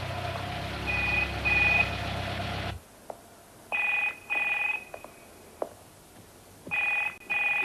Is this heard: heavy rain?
no